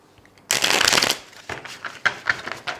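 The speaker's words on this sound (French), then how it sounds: "Je vais tirer une dernière carte avec le Chosen Tarot." A Chosen Tarot deck being shuffled, with a loud riffle burst followed by several softer card slides and taps, close and clear with no voices.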